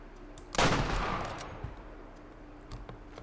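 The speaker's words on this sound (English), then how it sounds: "And I hope that was a good shot." Single loud hunting rifle shot in the Way of the Hunter game, a sharp crack followed by a long rolling echo that fades over a couple of seconds, with faint ambient outdoor sounds afterward.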